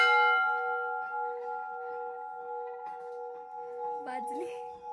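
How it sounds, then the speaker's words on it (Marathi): A large bell at a Devi temple in Gondia district sustains a steady metallic ring that hums on and slowly fades, with a brief voice near the end. "इथे बघा किती मोठी घंटी आहे"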